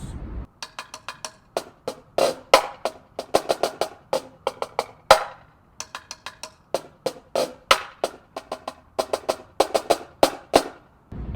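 Snare line playing a slow drum cadence phrase, crisp sharp strokes in repeating groups with brief gaps, rolls and accented hits, close and alone without voices.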